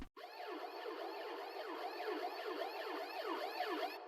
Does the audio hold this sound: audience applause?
no